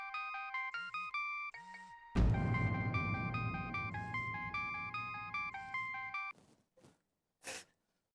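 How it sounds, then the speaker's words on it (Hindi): A phone rings with a repeating electronic melody ringtone, fairly loud and steady for about six seconds before cutting off, with a low rumble of background noise beneath it and a brief sound afterward. "रिंग जा रही है।"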